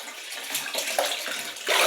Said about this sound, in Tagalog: Puno sa nato ng tubig.